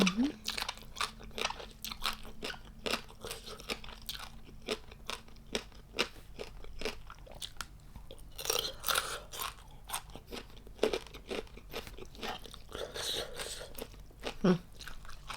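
Crunchy dried fermented red shrimp are bitten and chewed close to the mic, with repeated sharp crisp crunches in an irregular rhythm, plus a little soft murmuring.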